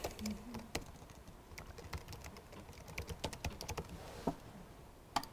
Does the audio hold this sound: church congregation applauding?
no